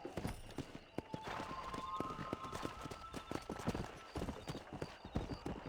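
Horse hooves clip-clopping during riding in the Red Dead Redemption video game, a steady run of close, loud hoofbeats with a brief whinny and a voice talking faintly underneath.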